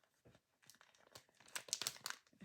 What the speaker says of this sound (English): a little bit of rustling, sorry. I'm going to take it out of its wrapper